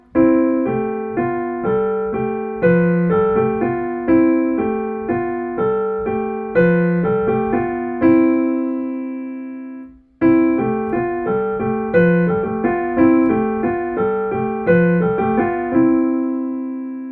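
A piano plays a steady, even exercise of paired notes moving up and down, played twice with a short pause between, clear and close.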